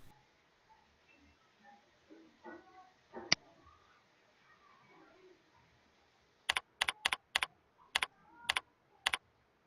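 Typing on a computer keyboard: a quick run of sharp, clear keystrokes in short bursts against a quiet room, following a few faint scattered clicks and a soft murmur of speech.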